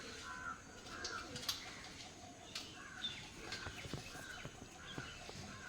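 Quality pigeons, a paired male and female, coo softly in a quiet loft, with low repeated coos, a few sharp clicks and rustles, faint and close.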